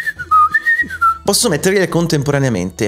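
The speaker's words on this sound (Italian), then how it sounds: "ma assieme a quello il suono di uno che fischietta" Someone whistling a melody as a sound effect played in Foundry VTT for a tabletop role-playing scene, a clear, close tune that is soon joined and covered by speech.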